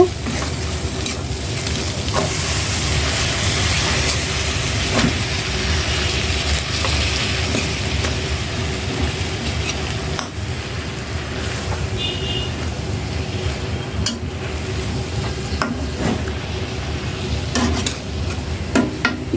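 Pui shaak greens fry and get stirred in spiced oil in a pan, a loud, steady sizzle with repeated scraping and occasional clinks throughout, close up, faint talk now and then.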